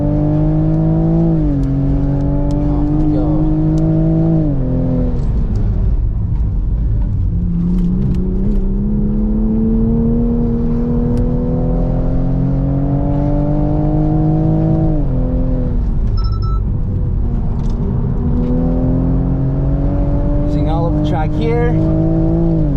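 A Bilstein-equipped Toyota Supra runs flat out around the Dijon circuit, its engine note climbing steadily through the gears with brief dips at each upshift, loud and continuous from onboard, while the driver talks over it.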